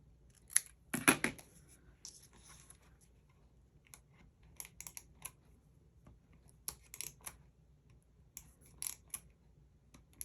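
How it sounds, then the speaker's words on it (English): Faint, scattered snips and small clicks of paper being trimmed for a scrapbook page, in quick irregular bursts with quiet gaps, no talk. "this side I'll just trim off equal with the edge"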